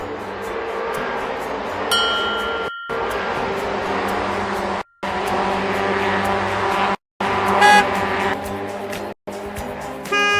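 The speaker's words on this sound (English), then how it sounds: "Tram rolls on the tracks." Tram rolling along city tracks with a steady rumble, a bright bell-like ding early on and a clattering burst later, broken by short gaps of silence.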